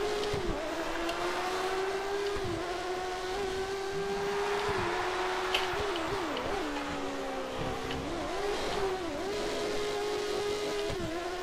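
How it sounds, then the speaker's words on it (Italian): Formula 1 race car engines from the game F1 2013 roar continuously at high pitch, revving up and down through gear changes in a steady, loud drone with no break. "Quanto vanno sti motori?"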